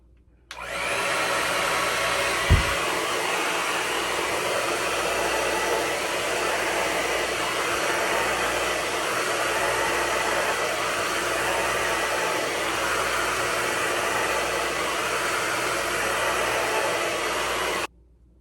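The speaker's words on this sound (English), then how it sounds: "section has been blown dry." A hair dryer blows out natural hair, running as a loud, steady, close roar for about seventeen seconds without a break, then cutting off.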